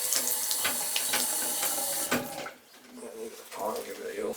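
A handicap sink faucet with a weak flow runs close and steady for about two seconds, then shuts off and trickles more faintly, with a voice speaking briefly.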